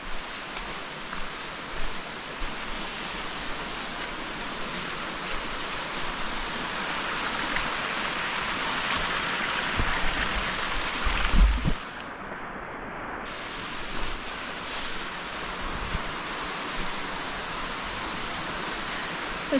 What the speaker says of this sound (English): It's the waterfall we crossed.